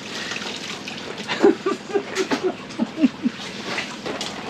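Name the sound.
water poured while panning for gold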